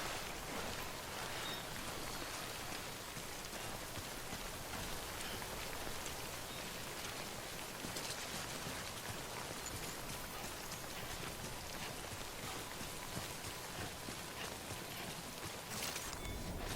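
Steady timefall rain pours down in the video game Death Stranding, a dense, even patter of drops on surfaces that continues unbroken throughout at a moderate, close level.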